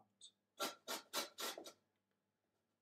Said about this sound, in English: You want to get rid of all the green off this lime